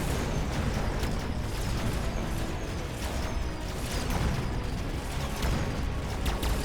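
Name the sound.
orbital bombardment explosions in the video game Mechabellum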